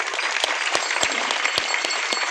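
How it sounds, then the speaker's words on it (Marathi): Hearty applause for the kirtan accompanists at a devotional performance, steady clapping from an audience that fills the whole short stretch. "त्यांच्यासाठी एकदा जोरदार टाळ्या"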